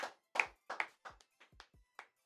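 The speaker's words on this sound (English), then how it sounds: "Let's clap it up for the chat." A livestream host clapping his hands, about eight sharp, close claps in an uneven rhythm, with clear silence between them.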